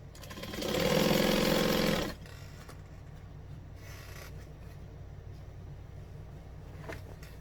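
A home sewing machine stitches a quarter-inch seam on a fold-over clutch, a loud, fast mechanical whir lasting about a second and a half, then stopping, leaving faint room noise and small handling clicks.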